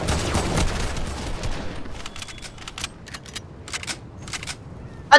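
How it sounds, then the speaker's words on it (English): In the Fortnite video game, gunfire crackles in a dense burst of rapid shots at first, then thins into scattered, quieter pops and clicks, ending with one sharp close report. "How dare you shoot me?"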